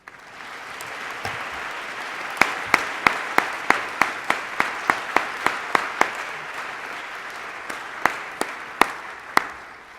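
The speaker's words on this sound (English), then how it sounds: "Could you join me in thanking and applauding our Board of Trustees?" An audience at a university alumni convocation applauds the board of trustees, a steady wash of clapping with distinct sharp individual claps standing out near and loud throughout.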